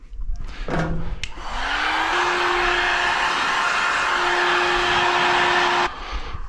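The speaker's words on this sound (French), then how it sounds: "il suffit de prendre un petit décapeur thermique" A small heat gun blows loudly and steadily as it shrinks a rubber sleeve while barkbusters are fitted to a CF Moto 450 MT motorcycle; a short click comes before it starts and it cuts off abruptly near the end.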